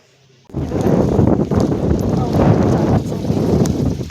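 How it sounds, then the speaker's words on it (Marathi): Wind and rain outdoors: after a brief quiet moment, loud, steady buffeting roars close to the microphone, with gusty rushing noise that continues to the end. "पाऊस चालूच आहे. आत्ता थोडं बारीक झालेलं आहे. वारा आणि पाऊस दोन्ही पण."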